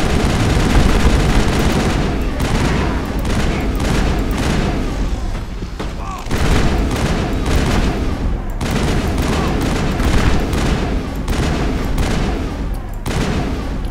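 Rapid gunfire and explosions from a Mass Effect firefight fill the scene, with dense bursts of automatic shots and booms running almost continuously at a loud, steady level and a brief lull near the middle.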